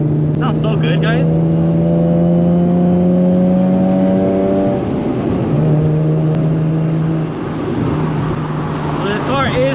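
A tuned Nissan 370Z Nismo with full bolt-on modifications on 91 pump fuel revs hard and holds high, steady engine tones that drop and rise again, loud and close, with voices talking over it.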